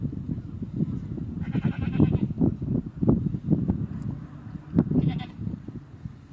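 Several goats bleat repeatedly nearby, overlapping calls rising and falling in a busy, continuous chorus.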